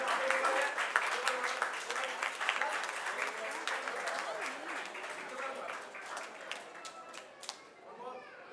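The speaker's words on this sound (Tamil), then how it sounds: "உங்களோட கைத்தட்டல் தான் உங்களோட இணையர் விருதுக்கான உற்சாகம்" An audience at an award ceremony claps steadily, a dense spatter of hand claps that starts strong and gradually thins out, with a few voices over it.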